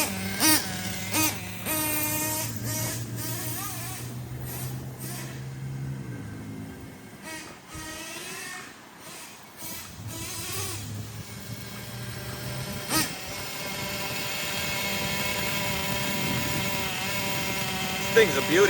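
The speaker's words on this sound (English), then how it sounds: "See how she idles. You can tell she's still real rich though." Ofna Titan .25 nitro RC monster truck engine idling rich, a steady buzzing drone with small blips of throttle, close by, while someone talks over it.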